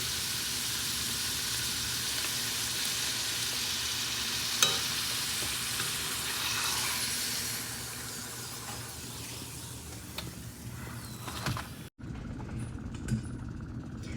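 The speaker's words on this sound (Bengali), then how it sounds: "তো এইভাবেই সব লুচিগুলো আমি ভাজা করে নেব" Luchi deep-frying in oil that is running too hot, a continuous soft bubbling sizzle held steady for the whole stretch, fairly faint, broken near the end by a short gap and a few utensil scrapes.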